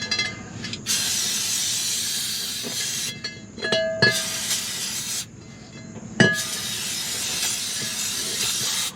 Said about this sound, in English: spray out the inside of the brake drum